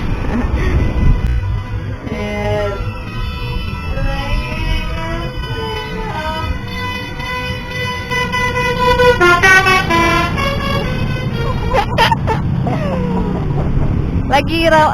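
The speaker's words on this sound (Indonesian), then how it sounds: "Lalu lintas di sini cukup ramai" Busy road traffic near Pasar Ciawi terminal, a steady rumble of cars and trucks close by with repeated horn toots and honks piling up in the later half, someone talking over it throughout.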